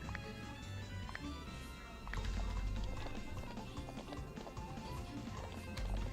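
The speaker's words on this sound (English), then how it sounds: "This is not your advanced horse. You can't gallop everywhere indiscriminately." A horse gallops in a video game, with quick, rhythmic hoofbeats that stay close and steady and grow a little louder partway through.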